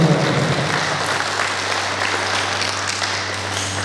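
A seminar audience applauds the speaker of a parenting talk, steady, dense clapping filling the room at a constant level for several seconds, loud and continuous, with no voices over it.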